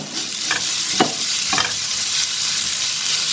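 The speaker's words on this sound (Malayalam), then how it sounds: "മല്ലിയില വേവിക്കേണ്ട ആവശ്യമില്ല വെറുതെ അതിലേക്ക് കൂട്ടി ഇളക്കി എടുക്കുകയാണ്" Coriander leaves are stirred into a ridge gourd chutney mixture in a hot pan, a steady sizzle with about three brief scraping strokes, close and loud, without talk.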